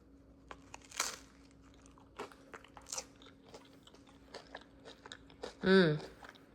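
Someone bites into homemade Greek pizza with meat toppings, fresh from the oven, and chews it with faint crunches and clicks, ending in a louder close burst and a murmured voice.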